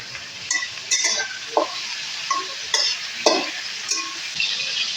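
Onions frying in a pan for a Bengali chital fish curry, stirred with a utensil: a steady sizzling hiss broken by repeated scraping and clinking stirs, close and without talk.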